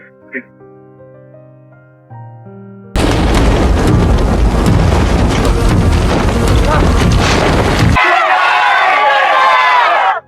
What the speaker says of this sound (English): Give me some lightning.